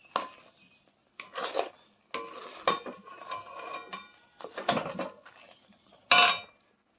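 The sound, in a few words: wok rattling while stirring coconut naru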